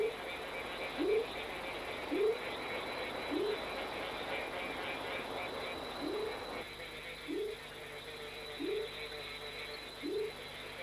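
Tree frogs croaking in a chorus around ponds at night, with loud, rising calls repeating every second or so over a steady, dense background of distant frog trills.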